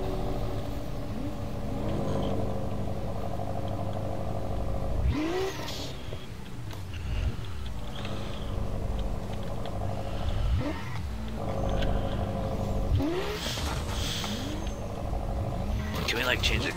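Engine of a car in the Roblox drifting game revving and popping with exhaust crackles, loud and close, with bursts of acceleration around the middle and end, under someone talking.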